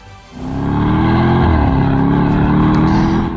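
Lister Stealth SUV engine revving up from idle into a loud, sustained close roar with a slight dip and climb in pitch, no voices.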